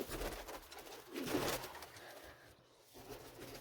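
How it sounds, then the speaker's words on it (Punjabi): Faint, low cooing of pigeons in a loft, some with an eye disease, comes in soft bursts against a rough, noisy background, with no voices. "ਕਬੂਤਰ ਆਪਣੇ ਹੈਗੇ ਆ"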